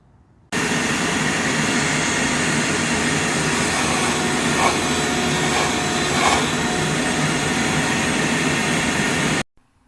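A vacuum cleaner runs steadily and loudly, sucking debris out of engine intake ports, its broadband roar holding constant for the whole stretch before cutting off abruptly at the end.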